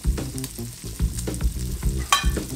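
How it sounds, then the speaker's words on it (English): Bacon frying in oil with pepper and onion, a steady sizzle with occasional pops of spitting fat, sitting beneath louder rhythmic background music. "Now this bacon, you can see it's starting to get kind of crispy and some of the oil is popping out of it."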